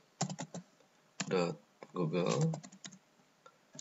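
Close keyboard typing as an address goes into a browser bar, a few quick key clicks alternating with a voice speaking between the bursts.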